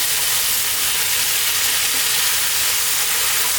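Green chili frying with lamb in a pan for Ethiopian siga tibs, a steady broadband sizzle and hiss running loud and unbroken throughout with no voices.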